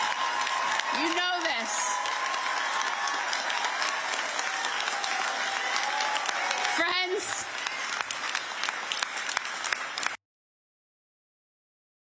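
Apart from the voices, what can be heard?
rally crowd cheering and clapping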